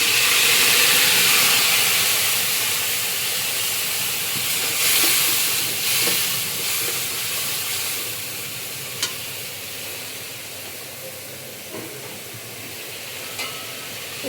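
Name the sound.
spice paste in water poured into hot pan, sizzling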